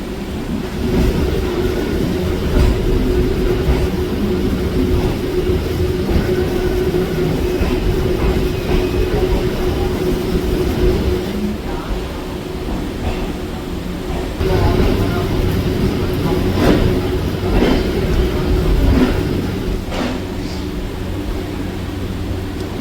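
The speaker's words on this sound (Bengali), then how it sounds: "ট্রেন ছেড়ে যাচ্ছে আমাদের শিয়ালদা স্টেশনে দশ নম্বর প্ল্যাটফর্ম" A local train pulls out of platform 10 at Sealdah station in Kolkata with a steady, loud rumble and rattle of wheels and carriages that swells slightly midway through.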